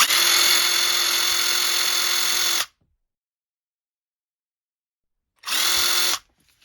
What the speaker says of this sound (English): So the drill would actually work now.